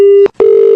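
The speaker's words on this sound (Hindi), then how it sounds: "कॉल ड्रॉप हो रहा है" Phone call drop tone, a loud, pure steady beep that cuts out briefly and then resumes as a sustained tone, sounding close and clear with no talking over it.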